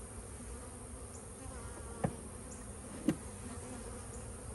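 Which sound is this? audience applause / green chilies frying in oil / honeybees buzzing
honeybees buzzing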